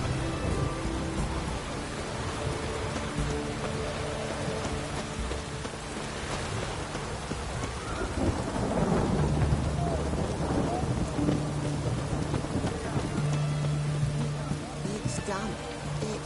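Steady rain falls with rolling thunder in the video game The Witcher 3: Heart of Stone, a continuous wet hiss with low rumbles, while characters talk over it.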